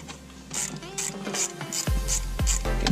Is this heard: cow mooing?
no